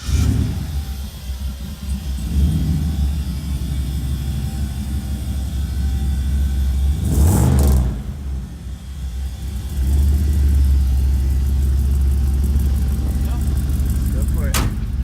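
A 600 HP turbocharged 6.0 LS V8 in a 1964 C10 Suburban revving hard from inside the cab, a loud deep roar that surges, drops away briefly, then climbs again with a rumbling low end.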